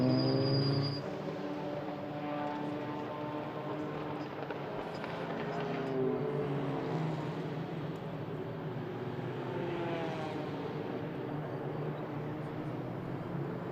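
TCR touring race cars at the Hungaroring circuit during a TCR Eastern Europe race produce a sustained engine drone with rising and falling pitch as cars pass, steady and moderately loud throughout.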